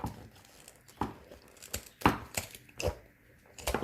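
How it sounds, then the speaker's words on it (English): Zigzag pinking scissors cut through fabric with a series of crisp, uneven snips and crunching chops close to the listener, some strokes louder than others, with no talking. "I'm going to cut it off, okay, with my zigzag scissors."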